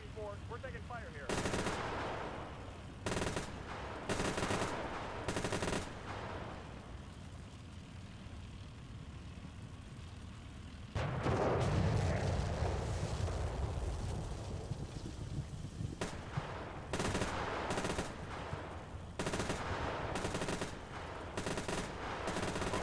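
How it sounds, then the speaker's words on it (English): Machine gun fire in the Steel Beasts Pro PE tank combat game comes in repeated loud bursts separated by short gaps, with a heavier rumbling stretch midway. "We're taking fire here."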